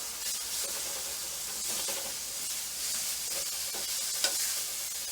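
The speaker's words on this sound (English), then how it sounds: "I'm going to stir it up a little more." Fiddleheads sizzle steadily in a hot frying pan while being stirred, with a continuous hiss and light scraping strokes throughout, close and moderately quiet with no talking.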